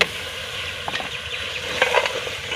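Potatoes for aalu palak fry in a pan in a Pakistani village kitchen, giving a steady close sizzle with scattered scraping stir strokes and light crackles.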